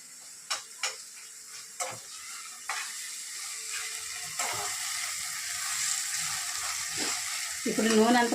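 Tomato and rice mixture frying in oil for tomato rice, a steady close sizzle broken by several sharp clinks and scrapes of a spoon stirring the pan, with a louder bubbling burst near the end.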